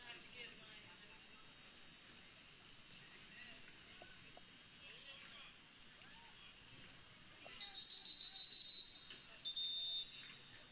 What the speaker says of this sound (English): got a whistle blown